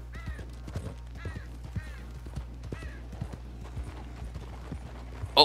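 Horse hooves clip-clop in Red Dead Redemption 2 in a steady walking rhythm of close, distinct strikes over a low hum, ending in a louder thump.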